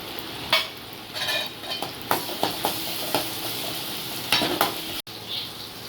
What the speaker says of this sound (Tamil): கடுகு பொரிஞ்சிச்சு. வெங்காயம் போட்டுக்கலாம், சின்ன வெங்காயம்.